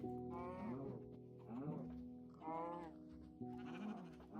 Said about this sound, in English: No, there's another sheep right here.